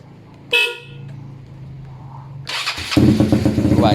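A Mio Sporty scooter fitted with a 232cc four-valve liquid-cooled engine starts on one press, a short starter whirr followed by a loud, rough idle right up close.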